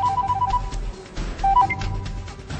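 A phone ringtone plays, a short repeating electronic melody of high tones that pauses and starts again, moderately loud over a busy indoor background.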